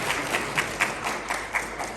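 An audience applauds at a business and YouTube forum, a steady wash of clapping with a few louder bursts standing out, held at moderate level from start to finish with no voices.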